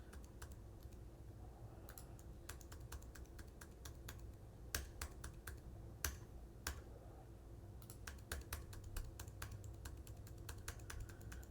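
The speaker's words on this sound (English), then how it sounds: "Hitting my keyboard." Computer keyboard keys clicked in irregular bursts and single taps, fairly close and moderately quiet, during design-software work, with no talking.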